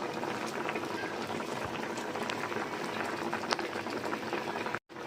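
A pot of stonefish paksiw (fish stewed in vinegar) bubbling at a steady, vigorous boil, with dense crackling and popping throughout, close by and fairly loud, with a brief drop near the end.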